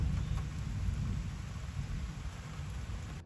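Steady rain pours down in a dense, continuous hiss with a low, rumbling undertone, close and fairly loud, with no voices.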